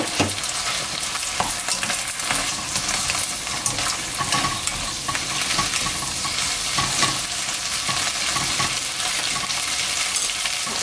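Spinach stir-frying in a pan produces a loud, dense sizzle that stays steady throughout, mixed with continuous tossing and scraping, close up and without speech.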